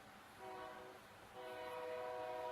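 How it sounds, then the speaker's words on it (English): A train rumbles past in New Mexico with a steady, sustained horn blast that sounds twice, the second longer, over low rolling rail noise. "yes, that is a train"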